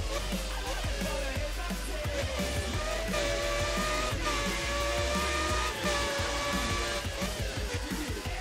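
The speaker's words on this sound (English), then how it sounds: "I do like that it sounds like an F1 car." A high, whining Need for Speed: ProStreet racing-car engine, sounding like an F1 car, revs continuously with rising and falling pitch, loud and steady from start to finish, with no voices.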